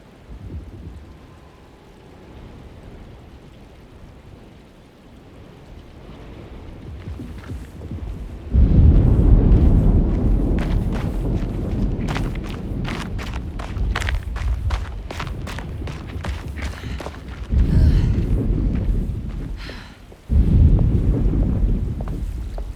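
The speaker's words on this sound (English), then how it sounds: "Looks like a storm's coming" A storm approaches in the video game Alone in the Dark: quiet ambience builds into loud gusting wind with rushing, rain-like noise and rumbling thunder swells that surge and ease several times.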